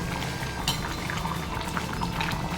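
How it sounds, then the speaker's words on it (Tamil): A pot of Chettinad chicken curry bubbles and simmers steadily up close, with soft popping and gurgling and a faint clink of metal. "சூப்பராக சிக்கன் குழம்பு கொதிக்குது"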